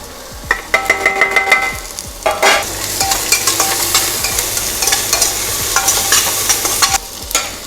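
Ginger stir-fried in a hot pan, a bright steady sizzle with repeated scraping and clinking of the spatula, close and continuous.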